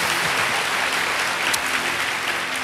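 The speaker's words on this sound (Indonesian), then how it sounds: "Berikan tepuk tangan kita untuk Tuhan kita." A church congregation at a Sunday service applauds in praise of God, a loud, even wash of many hands clapping that continues steadily throughout.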